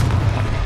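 A Confringo spell explodes in the video game Hogwarts Legacy, a single short, loud, booming blast with a deep rumbling body, close and sudden.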